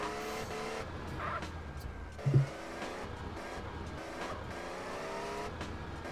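A car drives in the game MTA San Andreas, a steady engine hum with shifting revs and a brief thump midway, fairly quiet and without talk.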